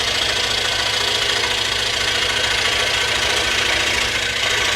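Power saw cutting a pattern in backer board, a loud steady buzzing drone with constant vibration throughout, close and uninterrupted, no talking.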